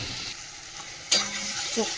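Spice paste frying in oil, a soft, low sizzle that jumps to a sharp, louder crackle about halfway through, then settles into a steady fry.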